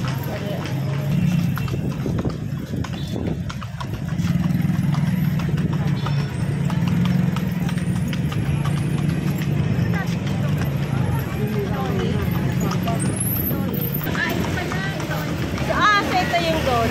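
Horse hooves clip-clop steadily as a kalesa carriage rolls through the old walled city of Intramuros, a close, continuous rhythmic clatter under ongoing conversation and street noise.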